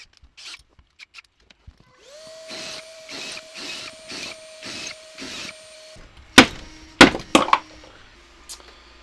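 A 3D printer that is malfunctioning whirs in a steady pulsing rhythm with a sustained motor tone, then stops; several sharp clicks and clacks follow.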